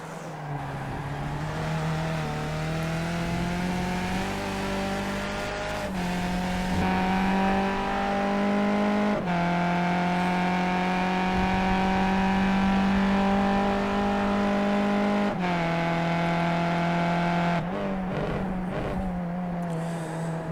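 A Skip Barber race car with a small 4-cylinder Mazda engine laps Circuit Gilles Villeneuve in iRacing. The close, steady engine drone climbs and drops through repeated gear changes and braking, with no talk over it.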